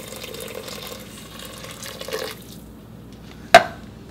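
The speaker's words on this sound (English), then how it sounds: "2 cups of boiling water." Boiling water is poured onto couscous in a pan, a soft, steady liquid hiss for about two seconds, then quiet and a single sharp clink near the end.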